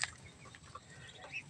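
Faint, scattered clucks of a chicken over a quiet, hissy background, with a couple of soft calls standing out briefly.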